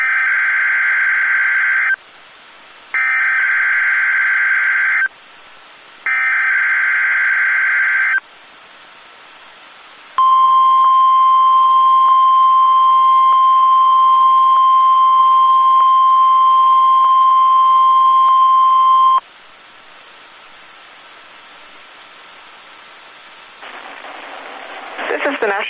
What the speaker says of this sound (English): The preceding signal was a test of the NOAA Weather Radio's public warning system.